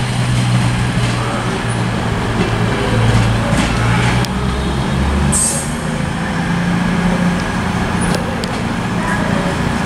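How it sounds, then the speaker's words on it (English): A CrossCountry passenger train pulls into Wolverhampton station on the West Coast Main Line, a steady loud rumble and engine drone with faint squeals, continuing throughout. "Also coming in, 1549 cross-country service from Birmingham New Street to Manchester Piccadilly."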